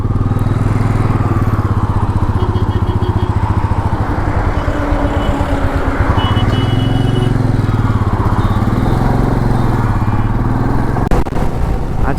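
A motorcycle cruises a highway on the ride from Kolkata to Purulia, its engine droning steadily and loud under heavy wind rush, with a few faint clatters near the end.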